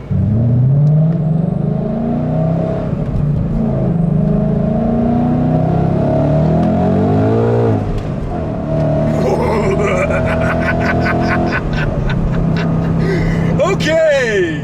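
A ProCharger-supercharged 2015 Ford Mustang GT engine revs up hard and accelerates in second gear under 10 psi boost with a rising whine, loud and close, and it dominates the whole stretch.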